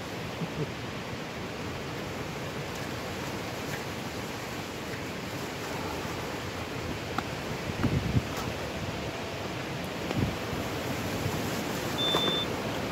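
Steady, broadband wind noise buffets a microphone throughout, loud and constant with occasional gusty bumps and no voices.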